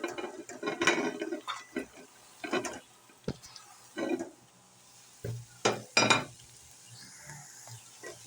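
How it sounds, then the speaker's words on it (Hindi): Spring onions being stirred into a soft frying masala of green chillies and tomatoes for green-masala anda ghotala, a spoon scraping the pan in irregular bursts over a faint sizzle, close and moderately loud, with no talking. "इन्हें मिक्स कर लेंगे अच्छी तरह से।"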